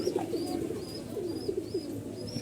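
Pigeons in a loft coo softly and repeatedly, overlapping murmurs over low background hum, with faint higher chirps recurring at a steady pace.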